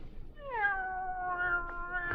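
One clear, drawn-out cat meow rises and then holds steady for over a second in a radio drama, fairly close and alone against a quiet background.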